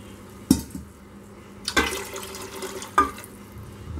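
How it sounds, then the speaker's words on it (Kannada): A glass of water is poured into coconut milk while cooking, giving a short liquid splash with a few sharp clinks of vessels at intervals, close and fairly quiet, without speech. "ಇವಾಗ ಇನ್ನೊಂದು ಗ್ಲಾಸಷ್ಟು ನೀರು ಹಾಕೋತೀನಿ."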